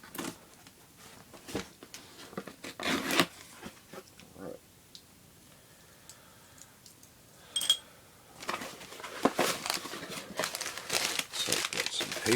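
Paper packing material crinkles and rustles in bursts during an unboxing of pouches, holsters, slings and magazine clips, with handling noises and quiet stretches between the bursts.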